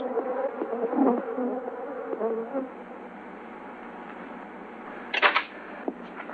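Africanized bees buzz in a dense, droning hum, rising and falling as if swarming nearby, with a few sharp clicking noises partway through.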